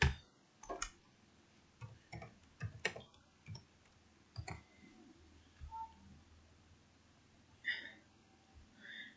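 Sparse keyboard typing with irregular clicks and short bursts of keystrokes, close and fairly quiet, separated by pauses, with no talking.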